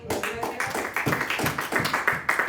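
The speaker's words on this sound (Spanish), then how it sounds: "Dele un aplauso." A church congregation claps together during a sermon, producing a dense, fairly rhythmic patter of hand claps that stays close and even for a couple of seconds.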